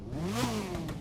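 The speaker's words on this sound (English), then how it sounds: "but starting the engine up right now" A gold-edition Mazda RX-8 in The Crew 2 starting up, a brief rising engine note that swells and falls back within about a second.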